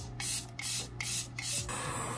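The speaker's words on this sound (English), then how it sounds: "I'm gonna go in and spray again just to help set everything" Charlotte Tilbury Airbrush Flawless Setting Spray misted onto a face, three or four quick hissing pumps in close succession near the microphone, followed by a fading softer hiss.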